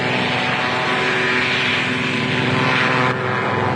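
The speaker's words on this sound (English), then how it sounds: "crewmen cheered as one plane after another screamed down the swaying runway." Doolittle Raid bomber taking off from an aircraft carrier deck: a loud, steady propeller-engine roar held close throughout, easing slightly near the end.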